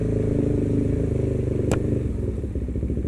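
A KTM 390 motorcycle engine runs steadily and loudly at close range, a constant low drone with one brief sharp click partway through, with no talking.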